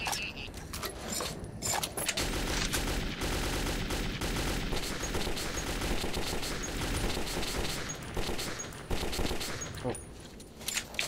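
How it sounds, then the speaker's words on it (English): Loud, dense machine gun fire in the video game Metro 2033, rattling bursts that run almost without pause through the clip, with clinking mechanical noises and a voice speaking over parts of it. "I'm gonna switch to my machine gun."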